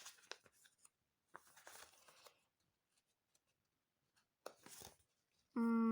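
A tightly sealed plastic packet holding an Among Us collectible is torn open, giving several short, close crinkling and ripping bursts separated by quiet pauses, followed by a sudden loud tone at the end.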